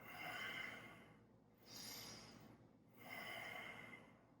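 Slow, deep breaths during a yoga flow, three long airy exhale-inhale swells close to the ear, each about a second and a half, with short quiet gaps between.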